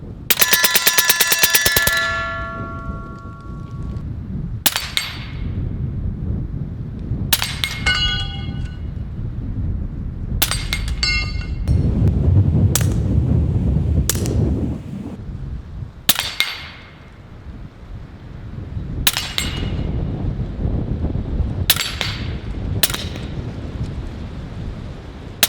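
A Western Sidewinder .30 caliber air rifle fires slugs at a target, about ten sharp, loud cracks spaced several seconds apart, the first one ringing out longer.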